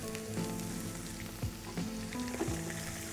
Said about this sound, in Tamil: ஆனியன் நல்லா ஃப்ரை ஆகிடுச்சு